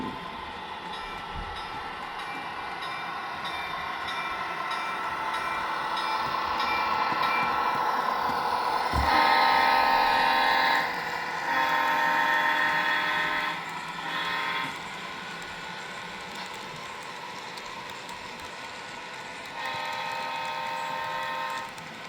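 An HO scale model train rolls along a 1950s-era club layout, a continuous close rumble with a tonal horn-like whine rising midway, steady and fairly loud throughout.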